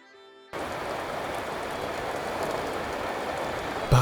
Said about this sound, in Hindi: बाहर हल्की हल्की बारिश हो रही थी